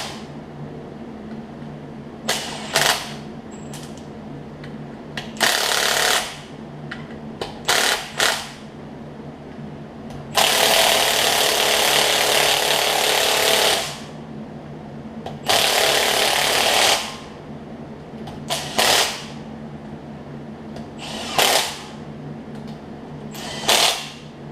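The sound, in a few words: impact wrench running in riding mower bolts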